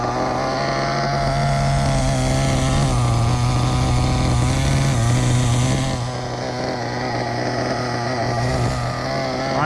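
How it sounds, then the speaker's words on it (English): A new MP10T engine kit idles during break-in with the idle turned up, a loud, steady, buzzy drone with a slightly rough, wavering pitch that dips briefly near the end, alone with no talking. "Now we'll turn the idle back up."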